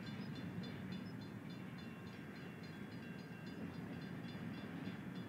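A long freight train rolls along tracks through a residential neighborhood, a continuous loud rumble with rhythmic clicking of wheels over rail joints, steady and unbroken throughout.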